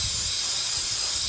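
Brake cleaner sprayed in a steady, loud continuous hiss onto the brake parts of a 2001 Saturn SC2 during a brake pad replacement, close and unbroken throughout with no talking.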